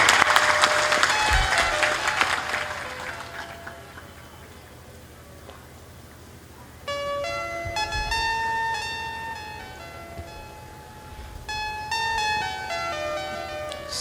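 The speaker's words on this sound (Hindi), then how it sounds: "ताली बजा दीजिए और मुस्करा दीजिए।" Audience clapping at a satsang gathering, a dense burst of applause in the first few seconds that fades, followed by bell-like ringing tones with no talk.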